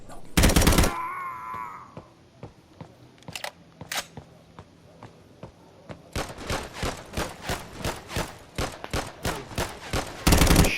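Gunfire in the video game BodyCam: a loud burst near the start, scattered single shots, then a rapid sustained volley of automatic fire and another loud burst at the end.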